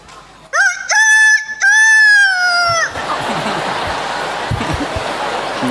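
A man imitates a rooster crowing, giving a loud series of harmonic vocal whoops that climb and hold, followed by broadband crowd or room noise.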